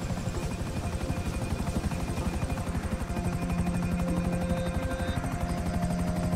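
A helicopter in the video game GTA V during a prison-break heist, its rotor chopping in a fast, even beat with a steady engine whine, continuous and fairly close, no talk over it.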